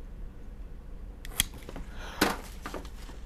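A rotted plant stem is cut with a couple of crisp snips spaced about a second apart, close and quiet against a faint room hush.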